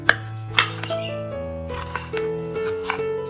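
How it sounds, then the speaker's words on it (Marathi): Knife chopping onion, tomato, potato and garlic on a board, heard as a few irregular close taps with longer gaps between them, while a steady tonal hum runs underneath. "तर या सर्व गोष्टी आता कटिंग करून घेतोय।"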